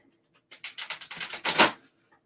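A deck of playing cards is riffle-shuffled in one quick burst of rapid fluttering clicks that lasts about a second, quiet and close, ending in a brief louder snap, with nothing else heard.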